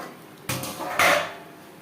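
A metal lid clanks down onto a pan of Katla fish tel jhal curry on a low gas flame, two fairly loud, close knocks about half a second apart with a short ringing tail.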